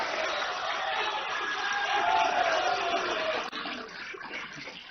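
Large crowd at an agricultural event applauding, a dense continuous wash of clapping and cheering that stays loud throughout with a brief dip near the end.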